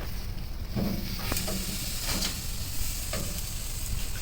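Tri-tip steak sizzling over charcoal on an Old Country BBQ Pits grill just after being flipped, a loud continuous close hiss and crackle with a few sharp pops.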